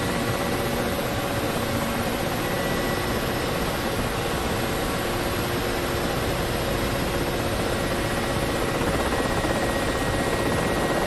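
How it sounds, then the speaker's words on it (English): Ka-50 Black Shark helicopter in DCS, its coaxial rotors and turbine engines producing a steady, loud, dense roar with a constant whine running unbroken throughout. "You can hear when we put that pressure on the rotors there, you can hear that slapping sound"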